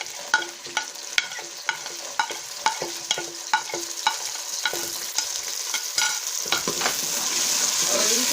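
Green peas frying with lightly browned onions in a pan for a mixed vegetable curry: a spatula taps and scrapes in a quick regular rhythm over a continuous close sizzle that thickens toward the end.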